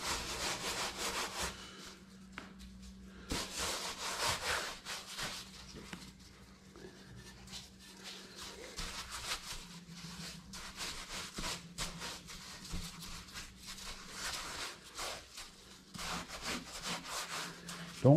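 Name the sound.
rubbing salt into a deer cape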